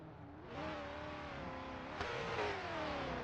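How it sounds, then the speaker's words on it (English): Drifting cars in the racing game Assetto Corsa, engines revving hard and holding high droning pitches with slight rises and falls, a sharp surge partway through, steady and fairly close with no talking. "Hope you guys can hear the cars."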